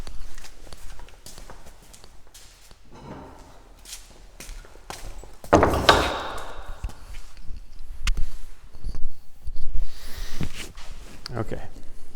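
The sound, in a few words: small hammer tapping wooden end table drawer joint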